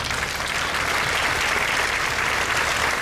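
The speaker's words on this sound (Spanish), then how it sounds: "Un aplauso para ellos." A lecture audience breaks into steady, dense applause honoring the men present at a talk on gender and human rights, the clapping sustained and fairly loud throughout with no voices over it.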